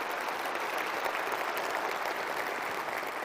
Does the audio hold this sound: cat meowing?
no